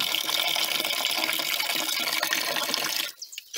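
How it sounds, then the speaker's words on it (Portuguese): Water pours steadily into a pot to top up a stirred mixture, a loud close gushing stream that stops abruptly near the end, followed by a few small sounds. "Agora vou botar mais um pouco d'água."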